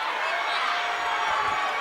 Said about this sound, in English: I can't tell who's cheering for who, but they're cheering, man